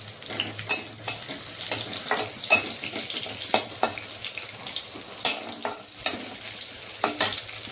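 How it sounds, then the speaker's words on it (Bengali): Onions frying in oil as the base for a jackfruit and prawn curry. A soft sizzle carries on under repeated sharp clacks and scrapes of a spatula against the pan, with no one talking. "পেঁয়াজটা একটু ভেজে নেব প্রথমে"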